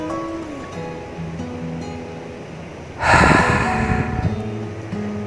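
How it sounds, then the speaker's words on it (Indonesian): Ocean waves break at Melasti Beach in Bali, a soft wash that swells suddenly into a loud rushing surge midway and then lingers as foamy hiss, with a faint tonal hum underneath. "yang bening itu dengan riak-riak dan ombaknya, itu adalah salah satu objek wisata di Pulau Bali. Namanya adalah Pantai Melasti."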